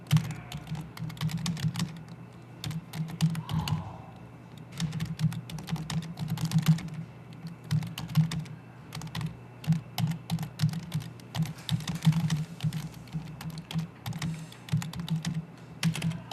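Rapid, steady clicking of keys on a computer keyboard, close and continuous with tiny irregular pauses, alone with a low hum in the background.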